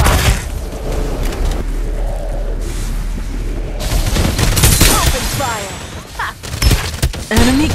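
Bursts of gunfire from a weapon in the shooter game Farlight 84, loud rapid volleys and single booming shots scattered over several seconds, mixed with game voice callouts and effects.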